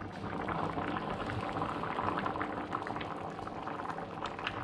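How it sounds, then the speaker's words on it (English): Chickpea curry stock for Punjabi chole bubbles steadily as it simmers in the pot, a close, continuous patter of popping bubbles with no talking. "So it's bubbling away."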